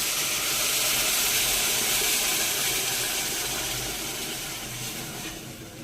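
Water pours steadily into a cooking pot while making molokhia, a broad hissing rush that stays loud for several seconds and then eases slightly toward the end, with no talking.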